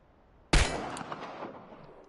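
A single sharp gunshot rings out at shooting practice in the video game Chernobylite, loud and close, and its echo trails off over the next second and a half.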